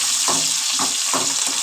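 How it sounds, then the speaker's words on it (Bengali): Taro leaves, chopped onion and tomato fry in hot oil with a steady broadband sizzle, broken by about four soft scraping stirs of a spatula at an even pace, close and loud with no voices. "লাল লাল করে সব ভেজে নেব"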